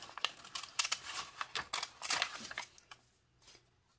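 Paper being cut out into an ear shape for a bobblehead with scissors, a quick run of close, crisp snips and rustles that thins out into quieter scrapes toward the end.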